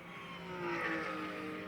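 Race cars at the BEC 4H endurance race in Parnu, a fairly distant engine drone that swells briefly as a car passes, with no speech.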